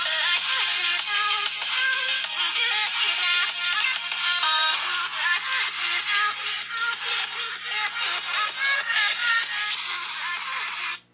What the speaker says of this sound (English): I'm gonna play the same music on my old phone, which is a Nova 2i, by the way.